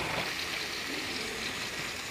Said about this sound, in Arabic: هات لي بتاع زي دي كده وحط لي فيها شويه ميه